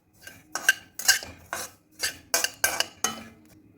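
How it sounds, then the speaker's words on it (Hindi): Poppy seeds are dry-roasted on medium-low heat in a metal kadai and stirred constantly, giving a steady rhythm of about nine sharp metallic scrapes and taps, close and fairly quiet. "खसखस को हम मीडियम लो पर ही सेकेंगे। इसको लगातार हिलाते रहेंगे।"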